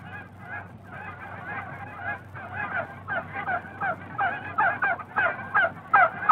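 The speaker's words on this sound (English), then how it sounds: "And there were geese." A flock of geese honks outdoors, the calls building from scattered cries into a louder, denser chorus of repeated honks, with no talk.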